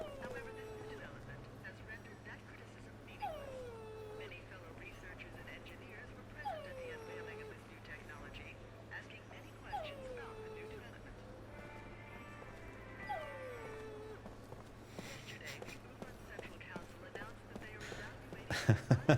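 A dog in the video game Lost Odyssey whimpering and yipping, short high whines repeating every few seconds over a low steady hum, with sharper noises bursting in near the end.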